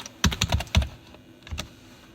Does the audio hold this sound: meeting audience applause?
no